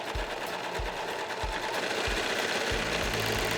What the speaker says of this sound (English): close the front cover, turn the serger back on